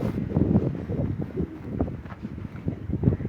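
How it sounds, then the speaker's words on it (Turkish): Strong wind buffets the camera microphone outdoors, a loud continuous low rumble with irregular gusty surges throughout and no talk. "Gerçekten fazla bir rüzgar var burada"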